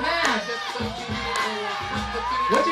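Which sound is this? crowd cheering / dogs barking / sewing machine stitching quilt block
crowd cheering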